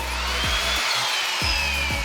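A power saw whines loudly and steadily through wood while refitting a camper van, with a dip partway through before the harsh cutting noise picks back up.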